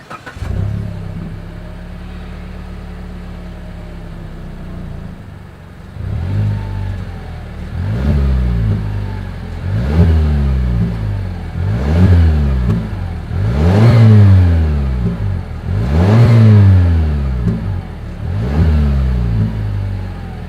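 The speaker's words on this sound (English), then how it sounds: "As always, here is that exhaust clip." A 2020 Mazda CX-5 with dual exhaust idles, then revs repeatedly in a steady series of rising and falling blips, loud and close with no talk.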